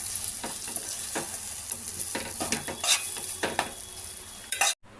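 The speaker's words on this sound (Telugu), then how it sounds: "ఇప్పుడు మిక్సీ పట్టిన పచ్చడి వేసుకుందాం" Ground amaranth leaf chutney fries in a pan, a close continuous sizzle broken by repeated scraping and clinking strokes of a spoon, ending in an abrupt cutoff.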